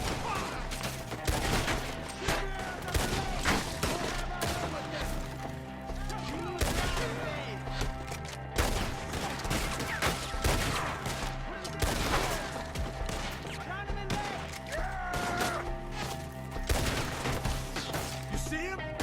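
Gunfight in Red Dead Redemption 2, with a shootout against enemies up in the trees: a dense, near-continuous volley of gunshots and crashing impacts runs throughout at close range, joined by shouting voices.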